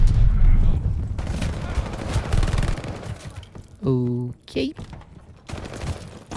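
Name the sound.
PPSh submachine gun firing in video game Call of Duty: Vanguard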